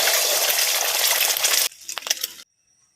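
An egg frying in vegetable oil in a pan for a Thai basil stir-fry: a loud, close, hissing sizzle that cuts off abruptly, then a few light clinks and taps before silence.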